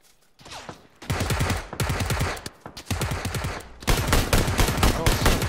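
Loud bursts of automatic gunfire in the battle royale game PUBG, with rapid repeated shots in several dense volleys separated by short gaps, growing heavier toward the end.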